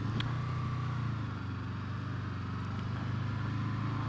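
Steady engine drone from a 2014 Honda VFR800 V4 motorcycle held at low revs under gentle throttle, a continuous low hum with slight surges, close and moderately loud throughout.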